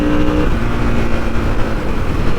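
A 2024 Harley-Davidson Sportster S motorcycle accelerates hard, its engine a loud, close, steady roar that holds unbroken through the whole stretch with no voices over it.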